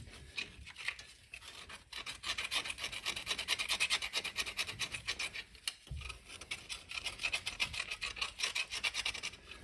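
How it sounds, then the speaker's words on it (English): Steady rasping scrape of rust being cleaned out of a 2010 Yukon wheel bearing hub, close and continuous in repeated strokes with a brief pause midway. "Now's a good time to just kind of clean out all the rust in here."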